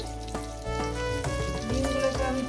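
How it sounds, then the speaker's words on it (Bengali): Oil sputters around whole boiled eggs being fried for a rich Bengali egg curry. The sizzle is steady and close but partly buried beneath loud background music, with occasional stirring knocks. "ডিমগুলো আমার ভাজা হয়ে গেছে"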